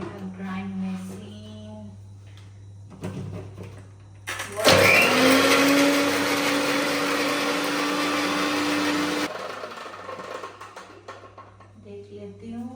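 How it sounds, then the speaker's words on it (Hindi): A large electric grinder jar whirs loudly and steadily for about five seconds, blending ingredients for a chicken and mushroom dish, then cuts off; someone talks before and after. "grind machine"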